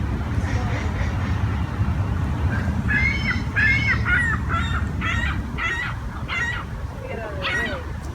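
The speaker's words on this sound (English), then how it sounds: "Canada geese, and swans." Canada geese honk repeatedly near water, a series of loud nasal calls in an uneven rhythm over a low, rumbling outdoor background of wind and water.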